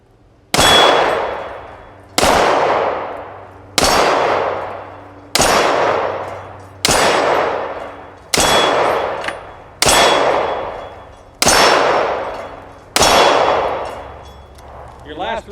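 A Star Super A pistol in 9mm Largo fires outdoors at a range, nine loud, sharp shots spaced about one and a half seconds apart, each with a ringing decay.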